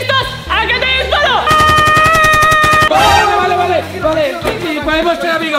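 Rapid burst of gunfire sound effect in a playful cardboard restaurant challenge, a regular machine-gun-like rattle of evenly spaced shots lasting about a second and a half, surrounded by loud excited speech.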